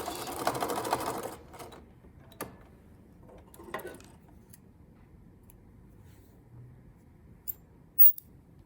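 A sewing machine back stitches a flat felled seam, giving a short burst of rapid needle chatter up front, followed by scattered faint mechanical clicks and ticks in near silence.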